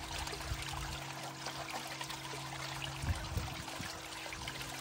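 Water steadily washes gravel and material through a Gold Fox Mini Monster gold prospecting machine outdoors, a continuous rushing, pouring flow with a faint motor hum underneath and a couple of brief knocks.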